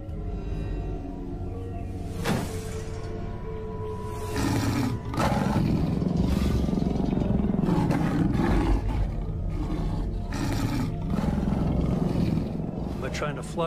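A young male lion in the wild roars loudly in long, rumbling bursts, with sharp bangs at intervals and a voice talking over part of it.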